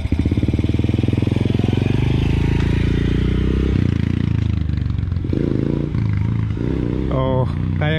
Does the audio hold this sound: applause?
no